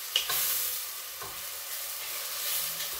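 Onion, three garlic cloves and a sprig of parsley frying in a pan, a soft steady sizzle with a few faint utensil taps and stirs, close and without speech.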